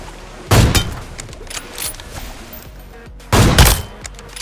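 Two heavy AWM sniper rifle shots in the mobile battle game BGMI, each a sharp loud crack about three seconds apart, with faint in-game noises and footsteps between them.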